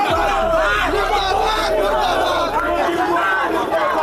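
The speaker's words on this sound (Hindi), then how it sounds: "योगी मोदी मुर्दाबाद के नारे लग रहे हैं लगातार" A crowd of protesting students at a university chants anti-government slogans, loud overlapping voices shouting in a rhythmic, sustained chorus close by.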